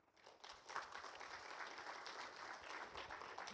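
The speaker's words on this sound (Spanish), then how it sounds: "Vamos a darle un aplauso al Señor." A church congregation bursts into sustained applause for the Lord during a Spanish-language service, steady and full-bodied clapping from a gathered crowd heard at a moderate distance.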